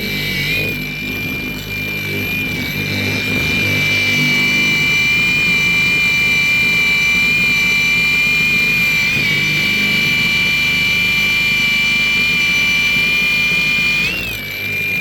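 A power tool polishes a handmade piece with a felt pad, its steady high motor whine running loud and close for the whole stretch with a brief pitch shift near the end.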